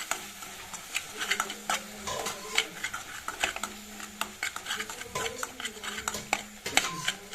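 Spoon stirring food colour into a thick amla toffee mixture in a pan, a close, repeated run of scraping and clinking strokes with irregular rhythm.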